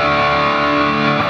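A heavily distorted electric guitar through a Blackstar ID:60TVP combo amp on a high-gain setting sustains a thick, saturated chord, loud and continuous for about a second.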